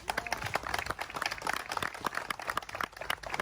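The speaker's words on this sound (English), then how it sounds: "Hand of applause for everybody." A crowd claps hands at a truckers protest in Washington DC, dense irregular applause rising and falling nearby, steady and fairly loud throughout.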